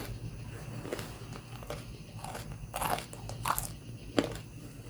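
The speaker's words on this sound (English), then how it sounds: "I just wonder if y'all can hear the crunch." Crunchy food being bitten and chewed close to the mic, a handful of sharp crackling bites spread over a few seconds against a quiet room.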